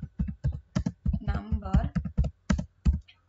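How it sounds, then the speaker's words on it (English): Keys clatter on a computer keyboard in quick, uneven bursts of close, crisp taps while someone speaks briefly over the typing. "and start typing"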